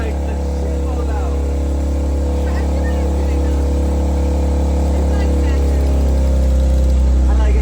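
A 2020 BMW X3 M with the S58 engine, catless downpipes and stock exhaust idles and revs nearby, a loud deep droning rumble with a slight rise near the end, while people talk over it.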